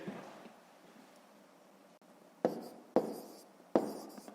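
A pen writes numbers by hand during a fifth-grade maths exercise, giving soft scratchy strokes followed by three distinct sharper taps or strokes near the end, close and quiet.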